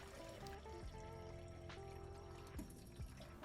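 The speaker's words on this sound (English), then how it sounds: "Grab your mixing jug, add 450 ml of water to it." Water runs and trickles into a mixing jug for film developer, a soft continuous pouring stream with small splashes and gurgles, quiet and close, with no talk.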